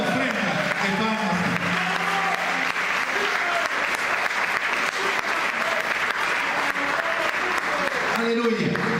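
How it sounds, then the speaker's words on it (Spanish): A church congregation at a special service applauds in a loud, sustained burst, with voices and tones mixed in under the clapping. "Dale una ofrenda de palmas"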